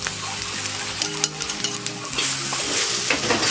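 Riceberry fried rice with egg stirred in a hot pan, a close, continuous sizzle broken by quick spatula scrapes and clinks against the pan.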